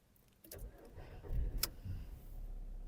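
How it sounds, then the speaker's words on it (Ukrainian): A Skoda Fabia's engine is started: a short cranking whir builds into a steady, low idle rumble that continues to the end, heard close and fairly quiet with no talking. "Давайте запустимо двигун."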